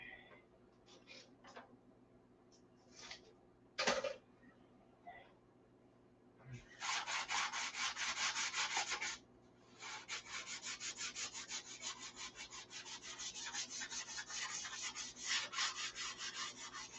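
A 1/2A Cobra model airplane wing is sanded with 320 grit sandpaper in long, steady rasping strokes after a few scattered light taps and scrapes, the rubbing close and fairly quiet.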